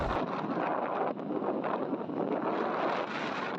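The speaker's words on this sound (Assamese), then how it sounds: "এনেকুৱা বতাহ মাৰিছে, খোলা জেগা ন পথাৰ।" Strong wind sweeps across an open field and buffets a handheld phone microphone, a loud, steady roaring rush with slight gusty swells throughout.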